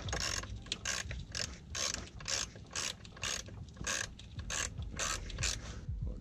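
A hand ratchet clicks rapidly and steadily while removing the transmission dipstick bolt on a Nissan Titan engine, with close, loud, repeated pawl clicks and no talking.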